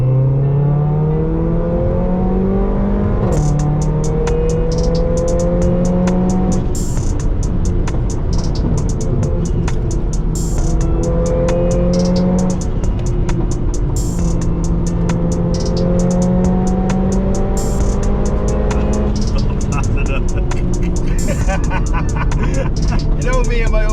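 A Mercedes A45 AMG in sport mode accelerates hard, its engine climbing through the revs again and again as the gearbox shifts up, with crackling pops riding on top; loud and close from inside the car, sustained throughout.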